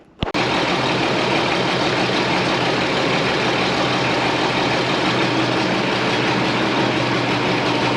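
A VW engine drones loud and constant after an abrupt start as it gently pulls out an original 1930 Farmall Regular tractor that sat parked for over 50 years.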